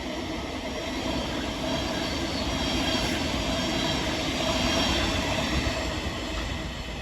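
A train runs through Forest Hill station in London with a continuous close, loud rumble and rolling wheel noise for the whole stretch. No one speaks over it.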